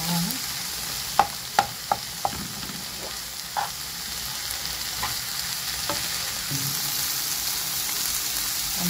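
Spiced minced meat filling with hot chopped pepper browning in a pan, a steady crackling sizzle broken by several sharp clicks and taps of a utensil early on, no voices.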